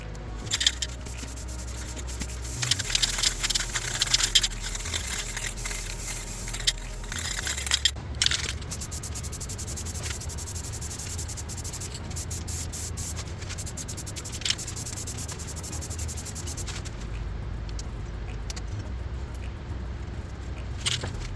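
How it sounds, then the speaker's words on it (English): Aerosol paint can hissing as it sprays the last of its contents onto homemade traction bars for a 2006 LBZ Duramax, a steady close spray with some rattling and scraping handling noise. "Just kind of spraying off everything that I have left in the can"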